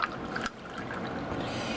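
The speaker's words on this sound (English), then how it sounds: "we like to pour a good glass of Kool-Aid" Kool-Aid pours into a glass in a quiet kitchen, a close, soft liquid trickle and fill, with a small clink near the start and end.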